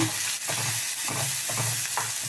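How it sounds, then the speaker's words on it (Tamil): Onions for carrot poriyal sizzle steadily in a hot pan, with a spoon stirring and scraping in several repeated strokes, no voices. "கொஞ்சம் வெங்காயம் நல்லா வணங்கிட்டுங்க."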